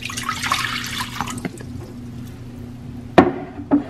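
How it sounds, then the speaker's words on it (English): Water poured into a saucepan for churro dough on the stove, heard as a close, gurgling pour with a few sharp splashes near the end and no talking. "Here's our water."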